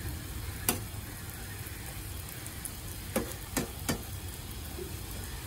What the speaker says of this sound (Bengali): এই প্যানটার মধ্যে হালকা একটু তেল ছিল, তো ভাবলাম যে শুধু শুধু তেলটা নষ্ট করব কেন, এর মধ্যেই শাকটা রান্না করে নিই।